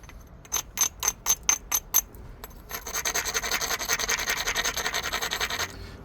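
Scratchy rasping of a Glass Buttes obsidian edge being ground during flintknapping: a row of short, sharp strokes in a steady rhythm, then a longer continuous grinding run of rapid rubbing, close and fairly loud, with no talk.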